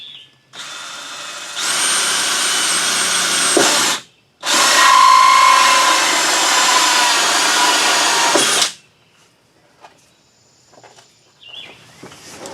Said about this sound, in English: there's a 1/2-inch hole that we're going to drill on the bottom